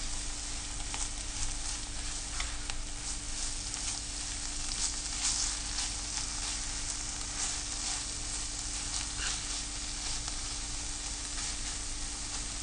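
Steady sizzling of something thick frying in a hot pan, a constant crackle with occasional soft pops and a low hum behind it.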